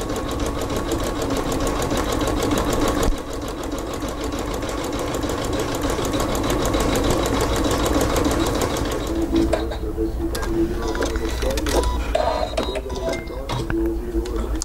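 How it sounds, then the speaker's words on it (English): A sewing machine runs steadily, stitching a satin applique onto fabric with a fast, even mechanical whir that continues throughout at close range. "So we might just let this sew and show you how it all looks at the end."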